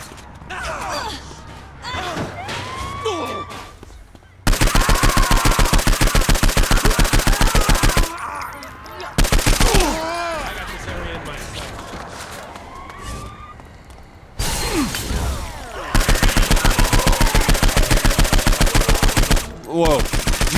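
Police gunfire aimed at the player in Saints Row IV: loud automatic bursts crackle in several long volleys separated by short lulls, with faint gasps and game sounds between them.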